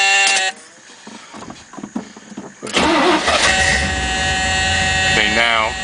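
A 1975 Corvette cranks briefly and then fires into a loud, rough idle that holds close and steady, with a warning buzz and some speech in the background.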